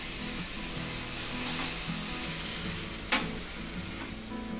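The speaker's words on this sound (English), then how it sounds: "now I'm going to add my puree and then saute it for some" Puree sautéing in a pan for Hakka-style spaghetti gives a soft, continuous sizzle. A single sharp click or clink of a utensil stands out near the middle, and there is no talking.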